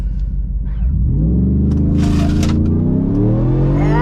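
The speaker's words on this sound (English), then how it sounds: "I'm just gonna brake boost a little bit and we're gonna launch it." Supercharged Ford F150 truck launching from a brake boost, a loud close-up engine rumble that surges into a rising roar with climbing revs and supercharger whine as it accelerates hard.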